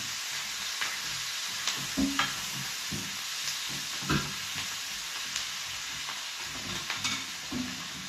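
Chicken sizzling in a pan for adobo, a steady crackling fry with occasional stirring scrapes, fairly quiet and with no talk.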